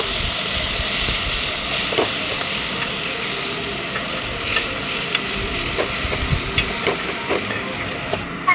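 Tomatoes sautéing in a pan for chicken kuzhambu, a steady close sizzle with scattered scraping clicks from stirring throughout, no talk.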